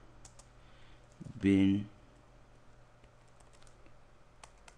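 Computer keyboard typing, light scattered key clicks at low level around someone speaking briefly.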